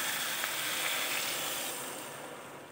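Water poured into a hot pan of sautéed potato and pumpkin for a prawn-and-pumpkin curry, giving a steady loud sizzle and steamy hiss that slowly fades over a few seconds, with no talking.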